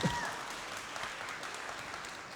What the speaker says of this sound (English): let's have another round of applause for Professor Bibby and Director Cécile.